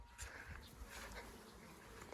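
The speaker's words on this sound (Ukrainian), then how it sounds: "Ще якісь мухи тут, звідки вони взялися, господи." Flies buzz continuously in the open air on a hazelnut orchard in June, a faint steady drone filling the whole stretch with no talking.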